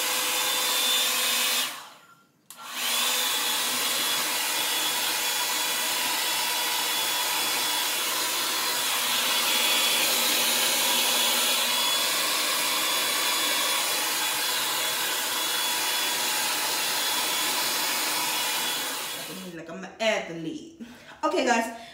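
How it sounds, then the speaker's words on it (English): A hair dryer blow-drying hair: a loud, steady blowing roar holds for most of the time, cuts out briefly near the start, then trails off at the end as a voice briefly comes in. "And about to go ahead and blow dry."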